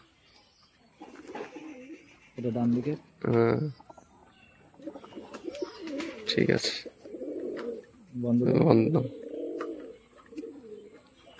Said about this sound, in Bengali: এই যে নটটা ডাক করছে, মাদিটা সাইডে রয়েছে।